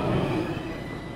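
A train pulls into a station in an anime, with a brief, close, steady rumble of wheels and carriages and a faint metallic squeal.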